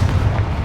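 A Confringo blasting spell bursts in Hogwarts Legacy as a short, heavy, bass-laden boom that fills the whole moment with a dense rumble, loud and close, with no voice over it.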